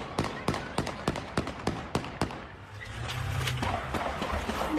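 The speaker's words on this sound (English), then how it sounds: "You can just hear all those shots being fired, people panicking, running for their lives." Gunshots in a Midtown Atlanta retail district: a rapid, steady string of about a dozen sharp cracks, followed by a rising din of panicked crowd noise and movement.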